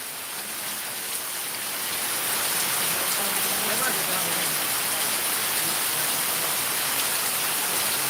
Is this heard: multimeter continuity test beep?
no